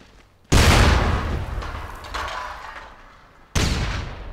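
Two heavy booming blasts from a grenade in SOCOM Confrontation on PlayStation, each a loud broadband explosion with a long rumbling decay, the second following about three seconds after the first.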